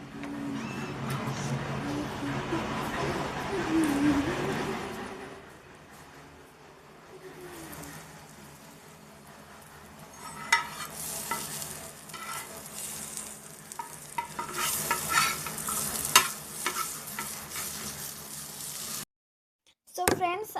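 Potato peels seasoned with salt and turmeric fry in a pan, giving a steady sizzle with stirring scrapes. Talk runs over the first few seconds. Brighter crackling bursts come later, and the sound cuts out briefly near the end.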